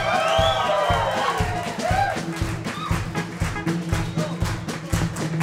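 A live concert audience cheering and whooping at a country and yodeling show, loud crowd noise with shouts over a steady pulsing drum beat from the stage.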